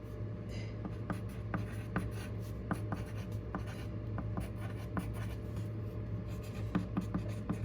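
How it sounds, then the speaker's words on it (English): A pen writes a name by hand on paper, giving a close, steady scratching with quick rhythmic strokes and small taps, repeated across several passes. "you want to write your name over top of it 3 times"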